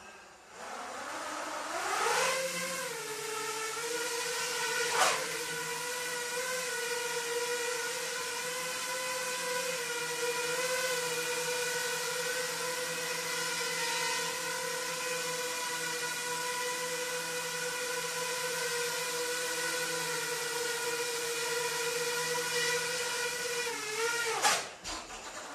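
An X210V+ FPV drone lifts off on about a third of throttle, its motors rising into a loud, steady high whine that holds for over twenty seconds before a brief surge and sudden cutoff.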